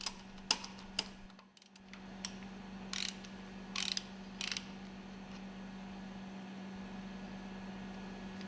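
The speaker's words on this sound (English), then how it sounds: "Mount and tighten the screws for the cooling jacket." Screws being tightened on an engine cylinder cover cooling jacket during an overhaul, with scattered clicks and short ratcheting bursts over a steady mechanical hum in a workshop.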